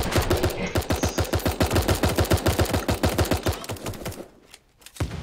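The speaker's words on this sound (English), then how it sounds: "I'm gonna go around and shoot anybody I see" Rapid automatic gunfire in the online battle royale game Super Animal Royale, a steady fast stream of loud shots lasting about four seconds before breaking off, with no talking.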